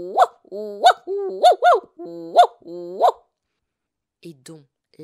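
A voice imitates the excited, perpetual yapping of a small Yorkshire terrier: six loud, sharp yaps in quick succession, then a pause and a few quieter yips at the end.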